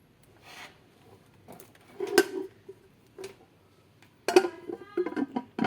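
A few sharp metallic clanks and taps as a deep metal cooking pot is moved and set down, with quieter handling noises in between.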